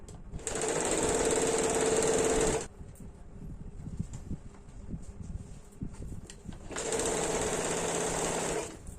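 Two long, close bursts from a sewing machine running the side seams of a deep-neck kurti, separated by a quieter pause with faint handling of fabric.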